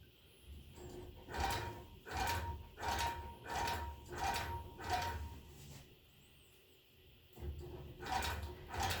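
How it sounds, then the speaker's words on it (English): Longarm quilting machine running in short bursts while sewing basting stitches through a quilt, a rhythmic mechanical whirr and clatter repeating roughly every half second, close and steady, with a brief pause near the end. "So I'm just taking basting stitches."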